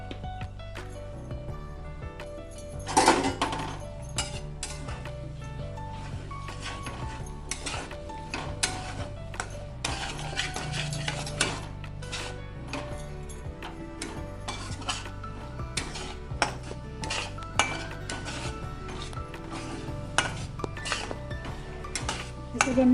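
Egg rice with salt is stirred and mixed in a pan with a spoon, producing repeated scraping and clinking of utensil on metal in an irregular rhythm over a low background hum, with no talking.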